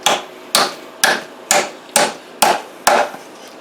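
Seven loud, evenly spaced hammer blows on nails into wood while building a beehive nuc box, each a sharp close strike with a brief ringing decay.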